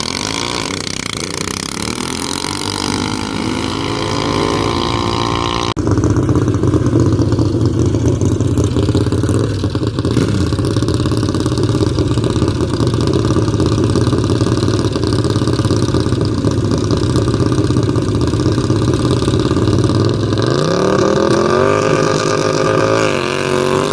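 A Duromax 440-powered racing lawn mower dragster roars loudly through a second-gear launch, engine rising in pitch and then holding a steady, continuous drone for the length of the run.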